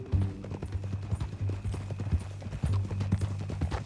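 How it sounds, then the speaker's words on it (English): Horse hooves clip-clop steadily in Red Dead Redemption 2, a quick repeating rhythm of close, fairly loud footfalls with a low music-like hum underneath and no talk. "That a new horse?"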